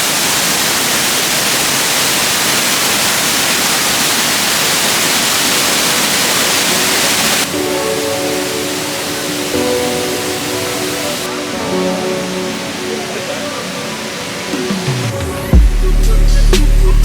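A steady, loud rush of falling water from a waterfall in Japan fills the space, constant and hissing, shifting slightly in tone partway through.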